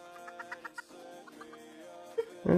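A chicken in the Minecraft FTB Infinity Evolved Skyblock game clucks in a short, regular series of soft clucks, followed by scattered quieter clucks and a sudden louder noise at the end.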